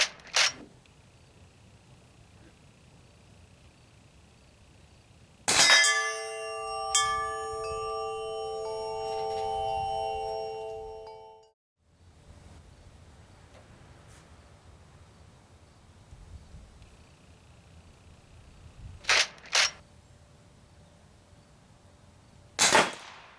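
A T4E Umarex HDS-68 .68 caliber air-powered shotgun fired from a bench at about ten yards: sharp, isolated pops spaced across a quiet range, one followed by a ringing metallic hum, the rest short and crisp.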